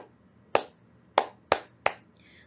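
Four crisp hand claps keep time with a children's counting song, the first standing alone and the last three coming closer together, each a bright, close slap with no talking.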